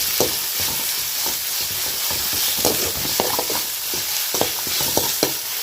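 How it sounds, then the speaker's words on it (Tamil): Chicken sautés in gravy for idiyappam biryani with a constant close sizzle and frequent spoon scrapes and clinks against the pan. "இந்த சிக்கனையும் சேர்த்து நல்லா வதக்கிக்கிறோம்"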